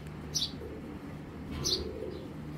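A black checker pigeon gives soft, low cooing in two short bursts, close by and fairly quiet, with faint chirps and no speech.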